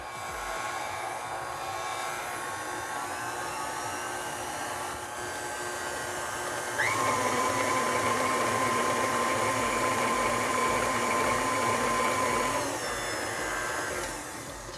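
Electric hand mixer whirring steadily through vanilla cupcake batter in a bowl, a constant motor hum close by that shifts up to a higher, louder speed midway and then drops back near the end.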